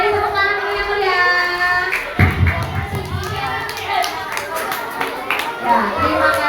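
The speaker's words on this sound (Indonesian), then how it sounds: "Kali ini tepuk tangan dulu yang mulia." Schoolchildren clapping in applause at an Isra Mi'raj and NU anniversary gathering, a dense patter of hands mixed with children's voices and a speaking adult over it.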